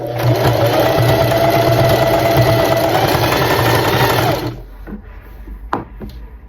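A sewing machine runs a steady, loud test stitch for a trouser hem using an overlock-stitch presser foot, humming continuously for about four seconds before stopping, followed by a few quiet handling clicks.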